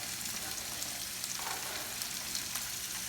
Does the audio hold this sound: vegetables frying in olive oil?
yes